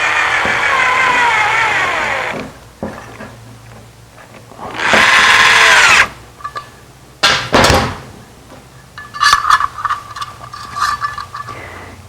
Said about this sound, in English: I'll use an electric drill to tighten them quickly and easily.